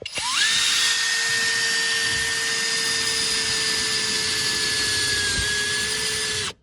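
A power drill spinning up to a steady high-pitched whine while driving screws into metal on a mail-delivery vehicle, the pedal-kit install; one sustained, loud run for about six seconds before cutting off abruptly.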